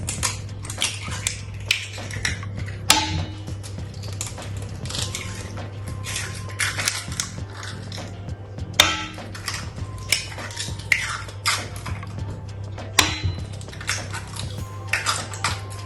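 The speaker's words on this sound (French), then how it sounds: "On va tout simplement mélanger tous les ingrédients, la farine," Far Breton batter of flour, eggs and sugar is whisked or mixed in a bowl, making a close run of rhythmic clinks, taps and wet squishes with no voices.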